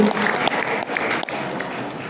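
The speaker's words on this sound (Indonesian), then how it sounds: "Kita berikan aplaus kepada seluruh nanti peserta" An audience at an Islamic boarding school graduation ceremony claps steadily, a dense, sustained patter of many hands heard across the hall, with a brief dip partway through.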